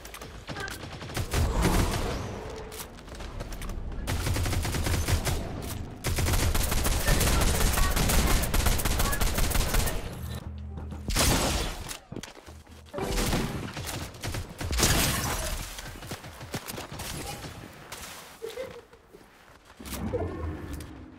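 Gunfire in a Fortnite Zero Build squads match, loud near bursts of rapid shots and fusillades that come and go across the clip with short quieter gaps between them.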